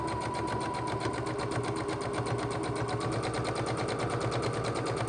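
A sewing machine stitches through quilt fabric with the foot on the pedal, a fast, even mechanical chatter running continuously and close by without any talking.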